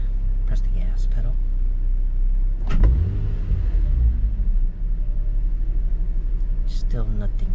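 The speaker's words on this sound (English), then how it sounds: "Press the gas pedal." A Nissan 350Z with a bad bank 1 upstream oxygen sensor idles with a low, steady rumble, then briefly revs up and settles back down, with a voice speaking softly nearby.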